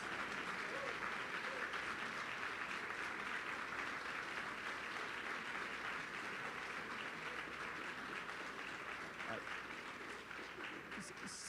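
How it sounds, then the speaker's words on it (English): Audience applause at a talk on America at 250 and the United Kingdom, a faint, distant, steady patter of clapping from a seated crowd that continues evenly throughout at low level. "Give them a big round of applause."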